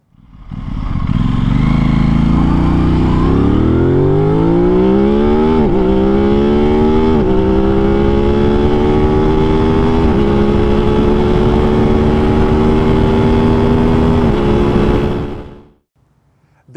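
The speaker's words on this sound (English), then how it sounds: "This is the best sounding production parallel twin exhaust I've ever heard." An Aprilia RS 660 parallel-twin motorcycle exhaust roars loud and close, its pitch climbing through several gear changes for about fifteen seconds before cutting off abruptly into near silence.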